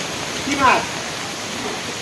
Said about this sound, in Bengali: যেই হারে বৃষ্টি হচ্ছে প্রচণ্ড বৃষ্টি সকাল থেকে